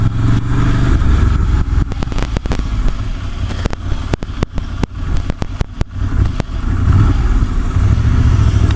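Engine of a 2019 Ducati Monster motorcycle while riding, a steady loud drone sustained throughout with wind rush and a series of sharp clicks or knocks scattered through the middle.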